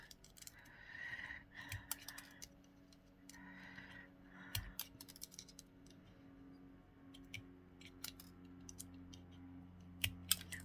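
Quick snips of scissors cutting, sharp irregular clicks spread across several seconds, heard close against a low steady hum.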